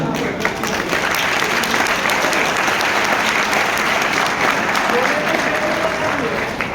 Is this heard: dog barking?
no